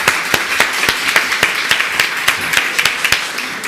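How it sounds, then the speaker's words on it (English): A conference audience claps after a cancer research session on technologies, imaging and AI. Sharp, loud individual claps ring out near the microphone in a fairly regular rhythm over lighter background clapping. "let's give everybody a clap, because that was a phenomenal session."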